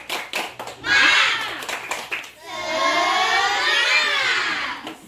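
Classroom of schoolchildren doing a rhythmic clapping chant, a few sharp claps followed by loud, sustained young voices shouting together in unison, close and energetic.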